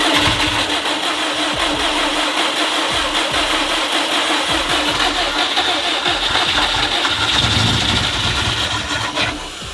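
Subaru WRX STI engine with a new OEM water pump and pulleys, rumbling loud and close at a steady idle right after starting, a dense continuous drone that eases slightly near the end.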